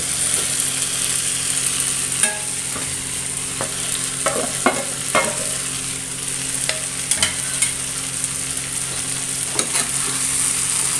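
Loud, steady sizzling in a hot pan as fried mackerel is stirred with curry leaves, with scattered scraping clicks of a utensil against the pan.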